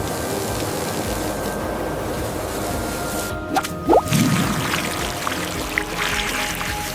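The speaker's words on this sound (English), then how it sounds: "Time to give these seeds a nice string of water." Water pours from above onto a freshly sown beet bed in a farm field, a steady hissing stream with a few splashy bursts near the middle, alone with no talking.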